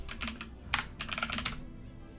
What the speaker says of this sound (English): which we could just type it out here